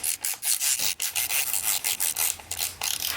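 A hex key turning and scraping in a bolt on a Shimano EP8 e-bike motor in an Orbea Rise frame, with rapid rhythmic ratcheting rasps up close, loud and without speech.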